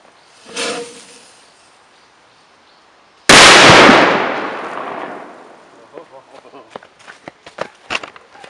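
A single sharp, loud bang of a Crazy Robots firecracker exploding inside a tire, with a ringing tail, followed by scattered light clattering of falling debris; an earlier softer thud precedes it.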